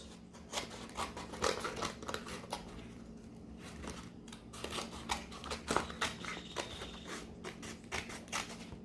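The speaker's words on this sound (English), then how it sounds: "cut around all these papers so we can get all of this out of the way" Scissors snipping around papers, a string of close, quiet cuts in an uneven rhythm with light paper rustling between them.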